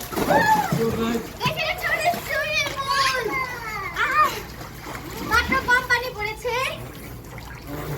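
Someone jumps into a swimming pool at a house, with splashing water amid children playing and chattering close by. Children's voices run throughout.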